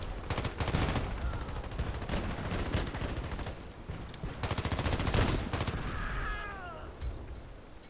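Rapid bursts of automatic F2000 rifle fire in a video game, fitted with extended Viper magazines, a Predator barrel and a tactical stock, crackle in dense volleys across the clip, with short gaps between strings of shots.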